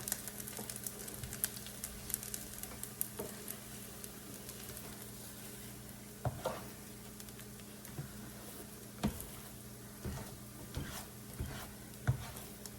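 Eggs scrambling in a hot pan for breakfast fried rice, a soft steady sizzle with light scraping and tapping of a utensil, fairly quiet and close, no voices.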